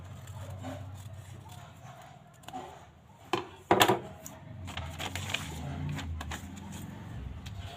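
Scissors cut through a paper pattern for a katori-style blouse, a dry rasping that comes in short bursts, with a couple of sharper, louder snips near the middle over a soft, steady background.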